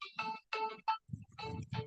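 A mobile phone ringtone plays a short melodic tune in quick bursts of bright electronic notes, fairly faint and heard on its own without talking.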